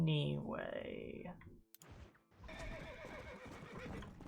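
A horse neighs loudly in the Red Dead Redemption video game, a high whinny sliding downward, followed after a brief pause by clip-clopping hooves and game ambience, close and prominent.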